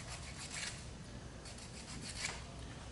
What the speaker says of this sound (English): I would just sit there and work it down with the 60 grit.